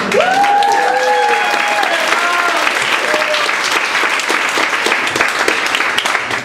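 Loud crowd applause and cheering fill the room, with a few whoops at the start before settling into steady clapping.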